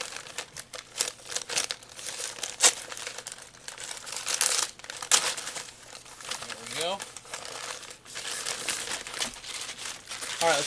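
Packing paper crinkles and rustles while a package of books is unboxed, irregular crackling bursts close by throughout, with a person talking over part of it.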